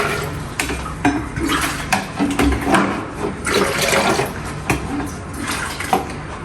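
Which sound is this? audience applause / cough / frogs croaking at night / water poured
water poured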